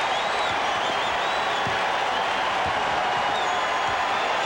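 A large indoor arena crowd at Game 1 of the 1994 NBA Finals, Knicks vs. Rockets, roars and murmurs in a dense, sustained wash of noise, loud and constant throughout.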